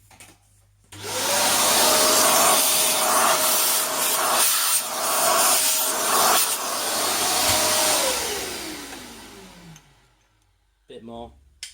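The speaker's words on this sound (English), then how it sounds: "Apologies for the Hoover again." A Hoover vacuum cleaner in a workshop starts up, holds a steady loud whine with scraping and rubbing for several seconds, then winds down with a falling pitch and clicks off.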